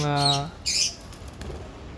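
A pet budgerigar gives a short harmonic squawk, then a brief rustle like fluttering wings, close to the microphone with quiet room noise afterwards.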